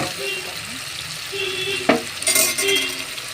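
Tomato and onion sauté in a pan for kuzhambu, a steady close sizzle with a few stirring scrapes and a clack of the spoon partway through.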